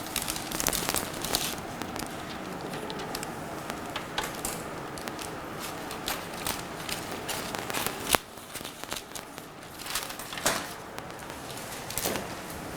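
Scissors cutting butter paper during home cookie baking, heard as scattered crisp snips and crinkling paper rustles with occasional louder clacks, close by and without talk.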